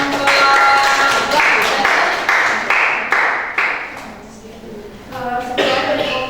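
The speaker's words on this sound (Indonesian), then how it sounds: "ya tepuk tangan buat kelompok." Students applaud a presenting group at the end of a class project talk, a short burst of scattered claps that fades, then rises briefly again, with voices mixed in.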